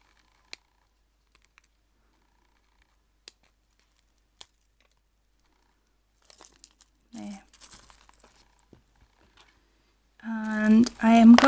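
Scissors cut card or paper into a V shape while making pockets and tags for a doily book: faint scattered snips and soft paper rustling over quiet, with a voice talking near the end.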